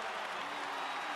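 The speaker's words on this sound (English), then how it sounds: "Iowa crowd very appreciative here today." Steady, dense applause from a large Iowa football stadium crowd, a brief unbroken wash of clapping heard from a distance without pauses.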